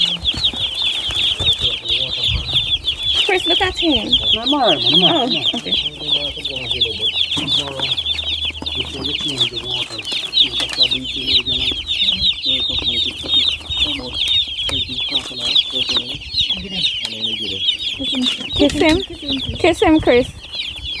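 Chickens cluck steadily on a small Jamaican farm in St. Elizabeth while a rooster-like bird is handled, with a steady high hiss throughout and people talking over the birds.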